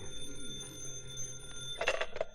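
A telephone rings in an old radio comedy show. Several short bright bursts come near the end, faint over a steady hum and background hiss.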